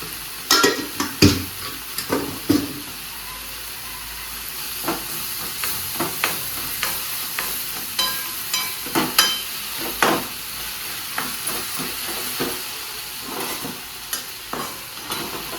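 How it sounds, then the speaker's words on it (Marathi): Brinjal bharit with onion being mashed and stirred with a spoon in a hot pan, irregular metallic scrapes and taps over a constant low sizzle, close by, with no talking. "चमच्याच्या साह्याने छान मॅश करत करत ते सगळं भरीत आता करून घेतलेलं आहे"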